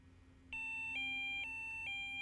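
An anti-theft alarm on a carp fishing bite alarm sounding, a loud, close electronic tone that pulses in repeated on-off bursts after a brief quiet start.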